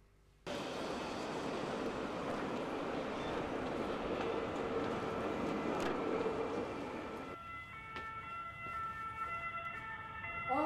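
A tram rolls along its rails with a steady, loud rumbling drone that holds for several seconds, then eases into a lighter rattle with thin tonal squeals near the end.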